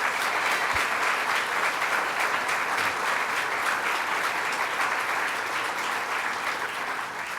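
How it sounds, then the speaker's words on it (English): Sustained audience applause at a public announcement event in Breezy Point, dense, steady clapping from a sizable crowd holding an even level throughout. "Let's give them a round of applause."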